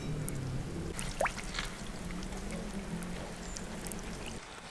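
Water seeps and trickles into a freshly dug, empty lake bed at a high point near old abandoned pipes. Soft drips and a faint dribble run close by over a quiet, steady outdoor background.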